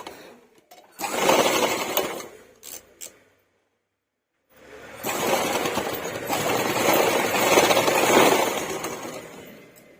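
A sewing machine stitches folded blouse fabric up close in two runs of fast, buzzing mechanical chatter: a short burst, a brief silent pause, then a longer, steady stretch of stitching.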